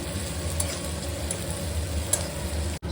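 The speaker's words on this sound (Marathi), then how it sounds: "टोमॅटो पण चांगला भाजून घेऊया" Onion browned to a reddish tint and freshly added tomato roasting in a pan, a steady close sizzle with soft stirring scrapes throughout, no voices.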